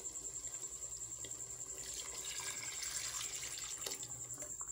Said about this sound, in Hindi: और यहाँ पे मैं डाल दूँगी यखनी।